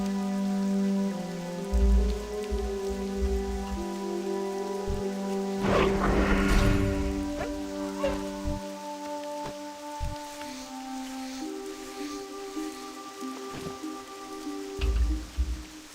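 Steady rain falls across Elwynn Forest in World of Warcraft Classic, a continuous wash of patter heard alone under sustained game music with no talk.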